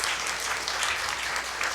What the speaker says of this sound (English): The applause really should be, though, for Jana